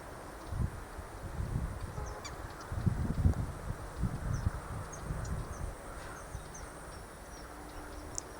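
Ducks on water call in short honking bursts over a soft outdoor background, the calls clustered in the middle and fading toward the end.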